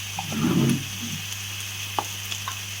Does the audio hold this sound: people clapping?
no